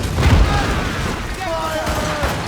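Ship cannons firing in a naval battle in Assassin's Creed Rogue, with a loud low boom early on, a dense rumbling battle din throughout and shouting voices over it.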